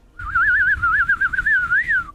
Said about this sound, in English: Yeah, I can do a good whistle.